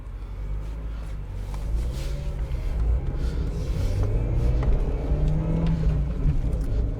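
A 1999 Ford Fiesta engine with a cold-start stalling fault accelerates up through the gears, a steady loud rumbling drone with rising engine tones, heard close and continuous with no talk over it.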